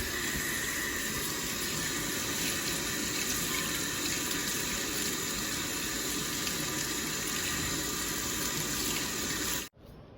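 Sea moss is washed under a running kitchen tap, a loud, steady rush of water that continues without a break and then cuts off abruptly near the end.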